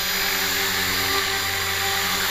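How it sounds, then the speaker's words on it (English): An LH 450 RC helicopter hovers in flight, its rotor and motor giving a steady, continuous high-pitched whine and buzz with several sustained tones, held close and unchanging. "just let me bring the helicopter into a hover and go hands-free"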